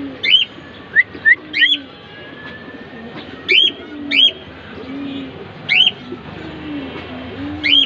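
A pair of Afsan Bagha khaki pigeons calls nearby with short, rising whistled notes repeated about a dozen times at uneven intervals, over soft low cooing and quiet background hum.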